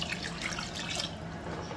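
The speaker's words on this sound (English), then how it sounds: "I think I'm gonna add like another cup of water, because there's a lot of rice and I need it to cook." Water is poured from a cup into a pot of rice for cooking, a steady close splashing trickle filling the short moment with no talk.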